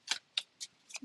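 Soft riffling bursts of tarot cards being shuffled, four quick flicks in a row, close and quiet.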